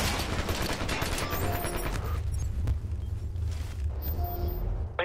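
Frag grenade blast and gunfire in the shooter game Ghost Recon Future Soldier on the Pipeline map, loud rolling bursts of shots over a deep rumble throughout, with a heavy boom near the middle.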